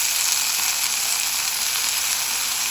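Freshly chopped green fenugreek leaves sizzle steadily in hot ghee in a pan, a continuous bright hiss with no voices.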